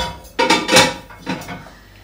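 A glass lid is set down on a pot or wok, giving a few quick clattering knocks of glass on metal, close and sharp, then fading to quiet.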